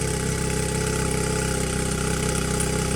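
A Mercury 9.9 four-stroke outboard motor idles warm, giving a steady, even rumble with a fine regular pulse, close and constant throughout.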